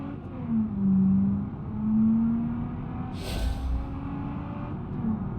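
Video-game cars race along a freeway in BeamNG.drive, engines whirring and revving in rising and falling swells with a brief rushing pass midway, no voices.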